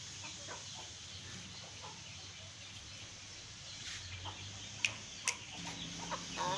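Aseel chickens and roosters cluck faintly amid a busy outdoor setting with steady background noise and a few sharp knocks near the end.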